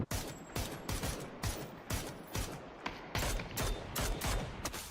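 Video game battle with a rapid series of gunshots and thumping mortar-like blasts, about a dozen evenly spaced sharp bursts over a steady mechanical background, moderately loud, with no talking.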